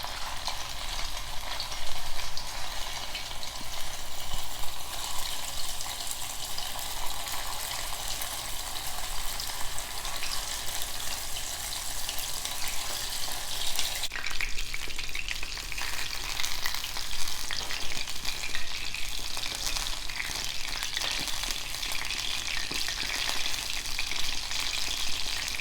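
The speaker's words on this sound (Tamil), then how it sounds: "இப்போ ஒவ்வொரு சிக்கன் பாலாக எடுத்து ஆயிலில் போட்டு ஃப்ரை பண்ணலாம்." Chicken balls deep-frying in hot oil give a dense, steady bubbling sizzle that continues close up throughout, with a slight shift partway through and no talking.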